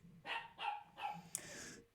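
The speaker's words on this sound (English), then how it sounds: "Dog," A dog barks three times in quick succession, followed by a short higher yip, fairly close and moderately loud.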